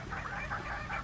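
Chickens cluck in short, repeated bursts, fairly faint, with a low background hum and no talking.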